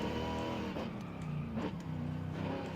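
A Mercedes SLS AMG engine hums and revs from inside the cabin in the video game Forza Horizon 5, a rich steady drone with slight rises in pitch, fairly quiet overall.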